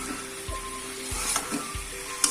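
Cauliflower florets being stirred into fried spice paste in a pan, with a steady low sizzle of frying and a few soft scraping strokes of the spoon, close and moderately quiet.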